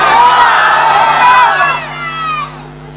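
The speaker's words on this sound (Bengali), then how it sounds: "এবার যুবকদের তাকবীরের আওয়াজ আমি শুনবো" A crowd of young men at an Islamic religious gathering near Savar, Dhaka shouting the takbir in unison, a loud massed roar of voices that fades out after a few seconds.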